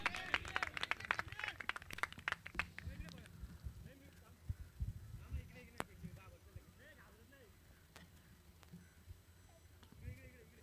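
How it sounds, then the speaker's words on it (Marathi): Scattered clapping rises from spectators at a local cricket match in the Kakadpada Chashak-2026 tournament, for the bowler Sunny after a maiden over, fading after a couple of seconds beneath a commentator's ongoing voice. "एकदा जोरदार टाळ्या सनीसाठी"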